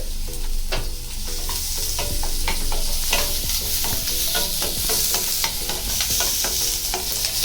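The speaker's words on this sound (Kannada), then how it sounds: "ಇವಾಗ ಸ್ವಲ್ಪ ಈರುಳ್ಳಿ ಹಾಕಿ ಫ್ರೈ ಮಾಡ್ಕೊಳ್ಳಿ" Onion frying in a pan with masala for an egg roll, a loud, dense continuous sizzle and crackle with busy scraping and clinking of a spatula throughout, no speech.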